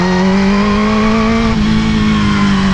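A motorcycle engine holds a loud, steady high-revving drone on a track, close and continuous with a strong buzzing tone and no talking.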